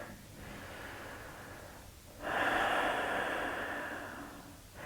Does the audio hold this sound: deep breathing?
yes